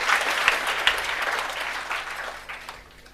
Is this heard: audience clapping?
yes